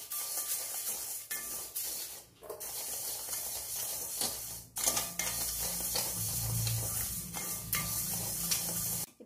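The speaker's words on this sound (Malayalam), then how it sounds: "അപ്പം നമുക്ക് തീ ഓഫ് ചെയ്തിട്ട് ഇതിനകത്ത് തന്നെ കുറച്ച് സമയം കൂടെ ഒന്ന് ഇളക്കാം" A spoon scrapes and stirs roasted ingredients for Tamil-style chilli chutney powder in a hot heavy-bottomed pan with the heat switched off. The stirring comes as quiet, intermittent scraping and rattling strokes close by, with no speech.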